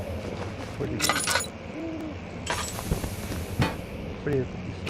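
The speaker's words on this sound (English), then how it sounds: "there's some owls outside" Owls hooting outside in a video game, soft hoots heard amid game sound effects including glassy clinks and breaking noises, with a voice talking over parts.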